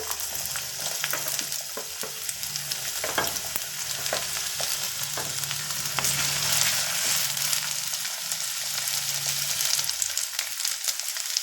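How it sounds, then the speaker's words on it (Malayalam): Ginger sizzles steadily in hot oil for a Kerala-style inchi curry, a close, continuous crackling fry with occasional stirring scrapes and no talk. "എണ്ണ ചൂടായി നമുക്ക് കുറേശ്ശെ ഇഞ്ചി ഇട്ട് വറുത്തെടുക്കാം"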